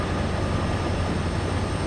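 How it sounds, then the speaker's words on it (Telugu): A goods train rushes past in an Indian train simulator game, a steady loud rumble of wagons on rails with a continuous low roar and no pauses. "దూసుకెళ్ళిపోతుంది గూడ్స్ ట్రైన్."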